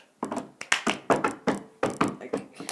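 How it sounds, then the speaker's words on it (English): Hand claps and cup thunks from a cup song game, a series of sharp, close, fairly loud hits in an uneven rhythm with short gaps between them. "Clap once. Clap once."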